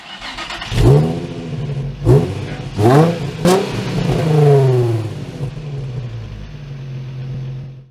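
A 2019 Hyundai Accent 1.6 Fluid sedan accelerates hard from close by, its engine note climbing and dropping with several quick gear changes before settling into a steady drone that fades out at the end.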